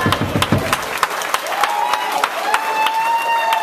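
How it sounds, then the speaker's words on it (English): Wedding guests at a reception clap for the newly married couple, a lively burst of nearby applause with crowd voices and a sustained tone rising underneath. "Big round of applause."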